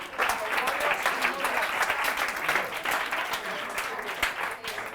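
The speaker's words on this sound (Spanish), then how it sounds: "Un aplauso a David" Audience at an education talk applauding, a steady burst of dense, close clapping that carries on for several seconds with no break.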